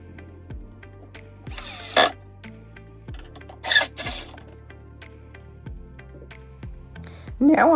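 Power tool driving screws to fasten legs onto an old desk, heard as short whirring bursts separated by pauses, with light knocks and handling clatter between runs, close by and fairly loud.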